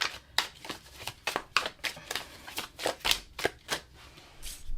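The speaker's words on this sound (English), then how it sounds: "Your cards were definitely coming out like really fast, like as I was shuffling" Oracle cards being shuffled by hand, a rapid series of crisp papery riffles and snaps repeating in quick bursts, close and fairly quiet with no talking.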